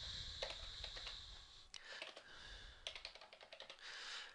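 Keys clatter on a computer keyboard as a form name is typed, with irregular bursts of clicks separated by short pauses, fairly close and alone.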